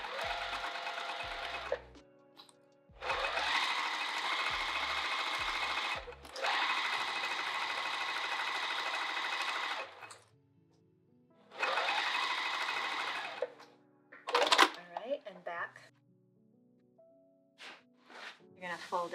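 A sewing machine stitches fabric in loud sustained bursts with pauses between runs, followed by short clicks and handling noises at close range.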